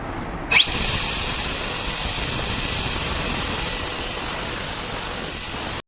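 A LEADER Lite B cordless leaf blower on a 20V battery spins up abruptly and holds a loud, steady high-pitched whine with rushing air, close by and alone, rising slightly toward the end.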